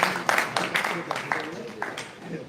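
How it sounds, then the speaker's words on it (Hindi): Applause at a live public gathering in Jehanabad, a moderate patter of clapping from a crowd with uneven bursts, fading slightly toward the end. "जोरदार तालियां अशोक"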